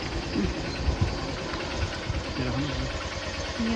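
A motorbike engine idles steadily while the bike is being parked, a low, even rumble with a faint knocking pulse, fairly close and continuous with no talk.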